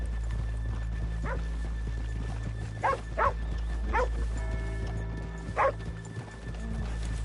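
Horses in Red Dead Redemption 2 give a few spaced, muffled hoof clops over a steady low game ambience, with a brief whinny-like call mid-clip and no talking.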